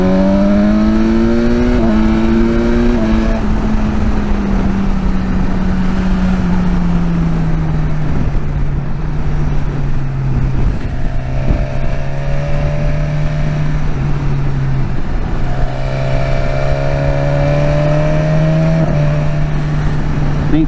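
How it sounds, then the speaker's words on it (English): BMW S1000XR motorcycle ridden along back roads, its engine droning steadily and loud throughout with pitch rising and falling through gear changes, under constant wind rush. "I'm going to take the back roads, take it easy and just enjoy a nice ride out."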